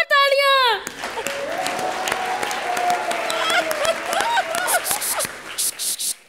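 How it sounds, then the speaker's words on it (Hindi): Studio audience applause on a comedy show stage, a lively burst of clapping and cheering under excited talk and a hosting voice, with sharper claps and whoops near the end. "जोरदार तालियां."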